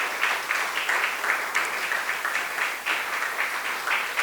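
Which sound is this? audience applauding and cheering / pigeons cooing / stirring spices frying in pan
audience applauding and cheering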